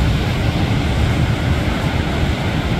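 Surf washing onto a San Diego beach at low tide, a steady broadband roar with the waves drawing back, loud and continuous with some wind buffeting the microphone.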